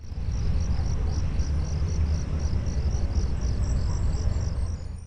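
Crickets chirping in the night ambience of Five Nights at Freddy's, a steady high rhythmic chirping over a dense low hum, continuous and alone.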